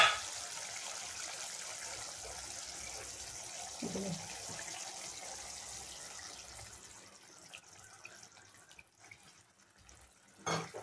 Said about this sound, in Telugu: ఇందులో కొద్ది చింతపండు రసం పోసుకోవాలి.